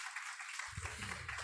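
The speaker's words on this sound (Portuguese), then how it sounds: "Dê uma salva de palmas ao Senhor." Church congregation applauding during a worship service, a steady wash of clapping throughout, quiet and somewhat distant, with low-pitched room rumble joining partway.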